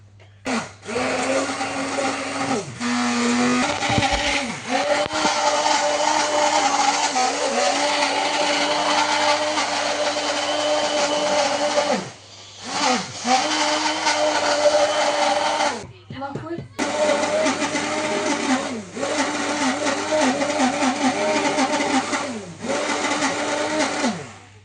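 Electric mixer whipping egg whites in a home kitchen, a loud continuous whine that briefly cuts out and restarts several times, with people talking over it.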